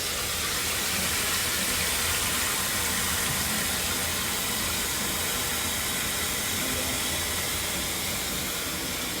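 Water rushes steadily into a toilet tank right after a flush valve replacement, a continuous broadband hiss and gush that holds loud and even from start to finish with no pauses.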